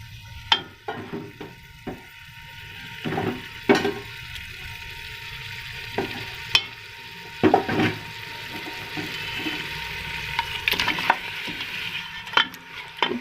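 Garlic and ginger paste frying for mutton karahi, with a steady low sizzle broken by repeated sharp scrapes and knocks of a spoon stirring in the pan, no voices.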